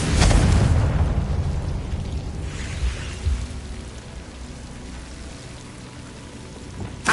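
Confringo spell blast in Hogwarts Legacy: a loud burst at the start rolls into a long crackling, rushing rumble that slowly fades, with a smaller pop near the end.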